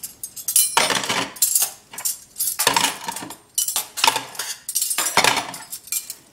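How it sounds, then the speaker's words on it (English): Metal utensils being scooped from a dishwasher into a hand, a close, bright jangle of cutlery clinking together in several quick bursts, heard alone. "you grab all the utensils and you put them in your hand"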